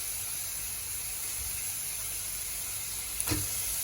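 Pieces frying in hot oil with salt and turmeric powder give a steady, close sizzling hiss that runs throughout, with a brief clink near the end.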